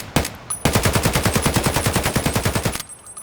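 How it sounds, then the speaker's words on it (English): Rapid automatic gunfire from a weapon in Escape From Tarkov, a dense, even burst of about twenty shots lasting just over two seconds, loud and close, followed by a muffled ringing tail. "as I shoot this gun"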